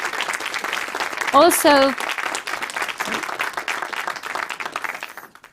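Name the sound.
audience applause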